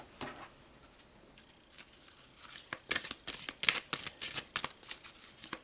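Tarot cards are shuffled by hand in a quiet room: soft papery riffles and taps that start sparse, then quicken into a dense run of crisp flutters.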